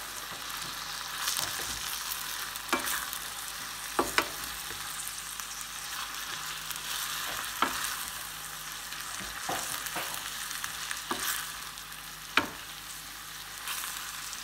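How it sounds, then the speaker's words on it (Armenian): Steady, close sizzling of beef frying in a pan, broken by occasional sharp clacks of a utensil stirring and scraping. "և կրկին լավ տապակելու ենք"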